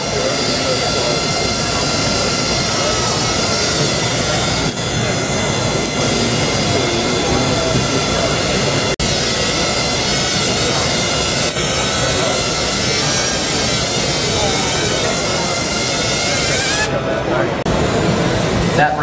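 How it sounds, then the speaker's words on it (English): A Qualcomm Snapdragon Flight drone carrying a 360-degree VR camera flies at a CES 2017 exhibit, its steady dense rotor whine running continuously and loudly throughout, with people talking beneath it. "there is Qualcomm's first fully integrated flying 360-degree VR camera attached to the Snapdragon Flight"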